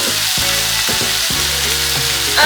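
Sausage with onion and fennel fries in a pan with a loud, constant sizzle and background music playing underneath.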